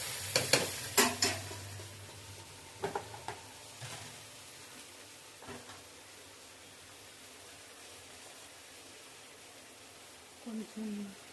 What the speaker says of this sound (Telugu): బాగా తిప్పాలి.